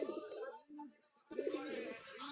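Soft, low pigeon coos repeat in short rolling phrases, close by, with a brief pause between bursts.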